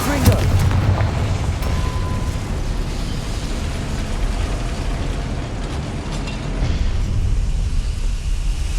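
Bombarda and Confringo spell explosions in Hogwarts Legacy, loud booming blasts merging into a sustained roaring rumble, with a strong initial burst and continuous heavy noise throughout.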